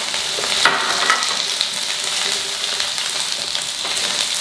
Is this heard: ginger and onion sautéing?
yes